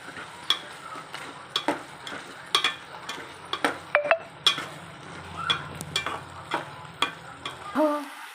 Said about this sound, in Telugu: గసాలు ఇప్పుడు కలుపుకోవాలి